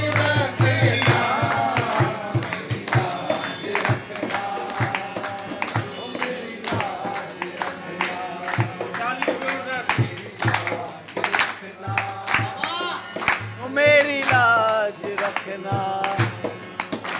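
Rhythmic hand clapping keeps time through a lively taali kirtan at Sai Darshan Mandir in Malad, steady and close under loud devotional singing and music.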